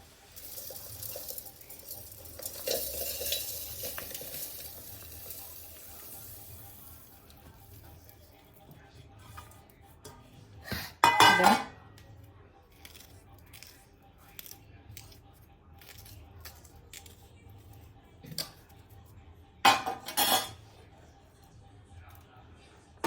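Roasted flaxseed mix is tipped into a mixer jar, giving two short, sharp rattling pours over an otherwise quiet background, with a person talking in between.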